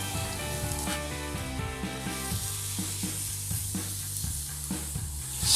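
Chicken pieces sizzle on a Vulcan commercial grill, making a continuous close hiss and crackle with background music underneath throughout.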